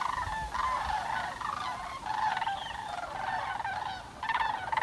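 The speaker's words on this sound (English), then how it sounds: "One of the sure signs of fall in Manitoulin is the annual migration of the" A flock of sandhill cranes migrates over Manitoulin Island in fall, giving rolling, trumpeting calls that overlap continuously, moderately distant and fairly faint against a low background rumble.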